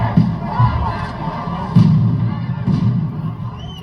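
Protest crowd shouting and screaming as police charge, a dense roar of voices broken by a few heavy thuds and bangs.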